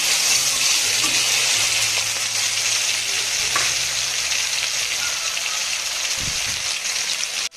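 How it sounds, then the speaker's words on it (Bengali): Spices poured into hot oil with a dried red chilli for masoor dal, giving a loud, steady frying sizzle that holds for the whole stretch, with a brief stir-like rustle near the end. "এটার মধ্যে আমি মশলাটা ঢেলে দেবো"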